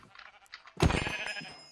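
A single pink sheep bleats loudly in the video game Minecraft after a stretch of quiet background sounds, a wavering nasal call lasting nearly a second.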